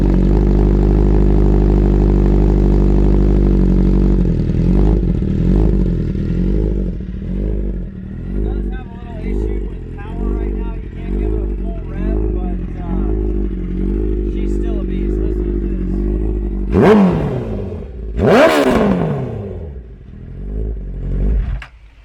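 A 2012 Honda CBR1000RR Fireblade with an Austin Racing exhaust idles loudly and close by, then gives a series of rhythmic blips and two sharp high revs near the end. Someone talks over it.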